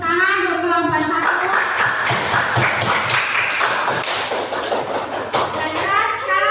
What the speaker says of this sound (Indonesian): Beri tepuk tangan untuk kelompok satu.